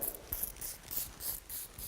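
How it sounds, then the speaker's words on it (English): A spray bottle spritzes water onto hair during preparation for cold capping, in a quick series of soft, airy hissing bursts, fairly close and quiet, with no talking. "So what you're going to do is just spray the hair like so."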